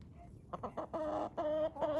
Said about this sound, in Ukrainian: курка велетень. Несе велетенські яйця.